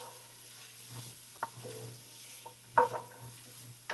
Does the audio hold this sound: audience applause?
no